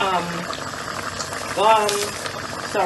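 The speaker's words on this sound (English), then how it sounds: "As you can see, my curry goat is bubbling away." Jamaican curry goat simmers in a pot, soft bubbling and popping of thick sauce heard close up while a voice talks over it.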